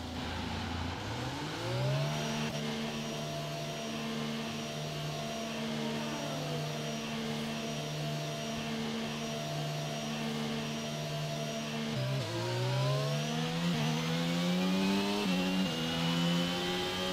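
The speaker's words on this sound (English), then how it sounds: "Okay, engines fired up" F1 car engines in F1 22 fire up and hold a steady high-pitched drone, then rev and climb in pitch near the end, loud and continuous with no talking.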